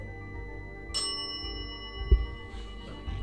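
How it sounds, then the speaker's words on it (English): A REM pod's bell-like electronic alarm starts suddenly and rings on with a sustained high tone over a low background hum, with a brief thump near the end, inside the Winchester Mystery House. "Wow, that bell is really going off."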